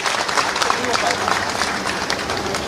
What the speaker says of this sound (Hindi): जोरदार तालियां साथियों आप लोग की बजती रहे।